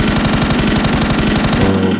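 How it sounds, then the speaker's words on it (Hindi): An M416 assault rifle fires in the PC video game PUBG on the Erangel map: loud, rapid automatic gunfire in a continuous rattling burst that cuts off abruptly near the end, with no speech. "तो मैं M4 का फायर देता हूँ, वो नीचे कूद जाता है।"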